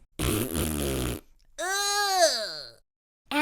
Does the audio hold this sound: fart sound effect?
yes